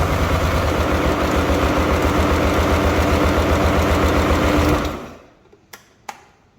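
A Polaris Sportsman 500 ATV engine runs with a fast, rough idle, a close and steady low chugging for about five seconds before it dies and winds down, followed by a couple of faint knocks.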